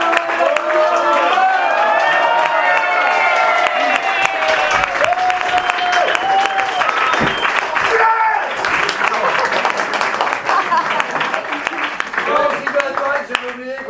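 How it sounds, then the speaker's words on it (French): Audience applause fills a room after the final scene of an improv theatre show, steady and close for the whole stretch, with scattered voices and shouts layered over the clapping. "je vous demande d'applaudir"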